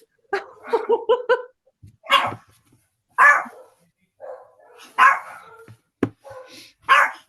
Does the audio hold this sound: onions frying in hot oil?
no